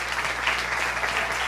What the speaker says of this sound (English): Let's give these volunteers and others that aren't here at the moment a round of applause